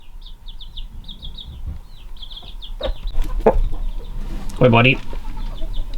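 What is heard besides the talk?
mother hen clucking with her chicks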